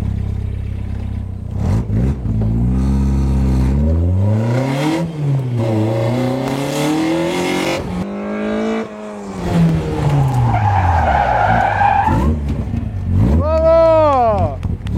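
A car drifting in a gymkhana contest revs hard with rising and falling engine pitch, tires squealing as it slides, loud and close; a person talks over it.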